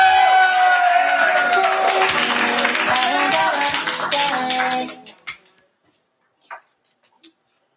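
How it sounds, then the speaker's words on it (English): Crowd clapping and cheering for a competitor at an open mic and slam poetry night, loud and dense for about five seconds before cutting off, followed by a few scattered faint sounds and near silence. "Let's clap it up for Mike Regan!"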